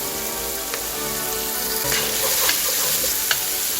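Smashed garlic fries in a pan for a vegetable stock, a steady close sizzle with a few sharp clicks of stirring, no talk.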